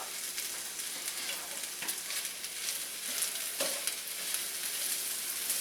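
Fried rice with peas and Chinese spareribs sizzles and crackles steadily in a hot pan. Occasional scrapes and stirring knocks sound up close, with no talking.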